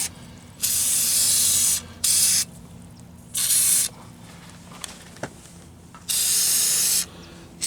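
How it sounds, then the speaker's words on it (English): Fluid Film sprayed from an aerosol can onto running board brackets on a 2024 Silverado 2500 pickup, four separate loud hissing bursts of roughly a second each, with quiet gaps between them. "I come back and I spray it with fluid film."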